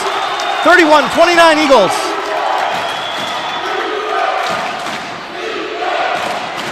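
Crowd noise swells and cheers in a school gym at a basketball game between Quentin Road and State Line, loud and sustained behind an announcer's talk, with sneaker squeaks early on and a steady roar that never fully drops.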